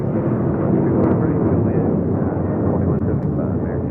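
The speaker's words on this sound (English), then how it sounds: "That was United Airlines Flight 1276 heading to Cancun, Mexico, in the 737-900ER." A United Airlines Boeing 737-900ER takes off at LAX, its engines a loud, dense roar that holds steady through the whole stretch and leaves little room for other sound.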